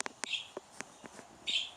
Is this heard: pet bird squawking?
yes